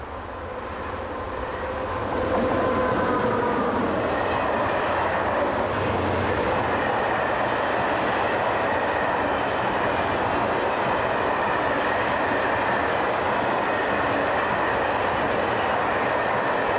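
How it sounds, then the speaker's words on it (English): A French BB7200 electric locomotive hauling a freight train, with a steady, loud rumbling roar of passing wagons and faint rail clatter that builds over the first couple of seconds and then holds. "The BB7200 electrics are also common to this route, mainly hauling freight."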